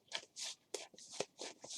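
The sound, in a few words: shuffling a deck of playing cards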